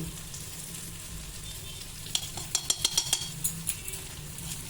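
Two spoons of ghee hit a wok holding a little leftover oil, a steady low sizzle that erupts into a short run of sharp crackling spits and pops before settling again.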